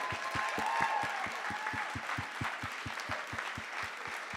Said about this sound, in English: Just give another big round of applause for all the artists and what they shared with us tonight.